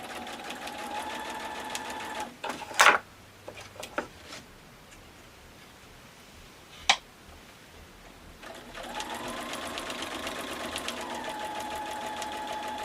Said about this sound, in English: I'm going to go a couple of stitches forward and a couple of stitches back just to secure that edge of the binding.